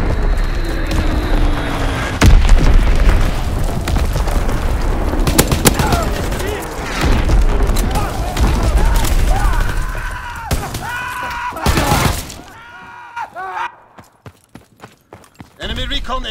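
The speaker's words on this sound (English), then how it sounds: "Incoming enemy artillery, get to cover." Artillery shells burst in a WW2 video game battle, heavy booms mixed with rattling gunfire and clattering debris. The din is loud and nearly continuous, then thins into scattered blasts toward the end.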